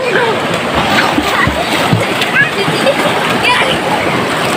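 People bathe and splash in a river, giving continuous loud sloshing and splatters of water with flowing-stream noise and voices mixed throughout.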